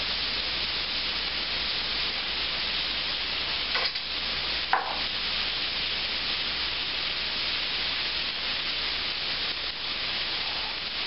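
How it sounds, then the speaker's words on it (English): Steady, continuous sizzling of food frying in a pan for green chili soup, a dense crackling hiss with a couple of brief clinks of stirring. "as you can tell, there's a sizzling sound starting"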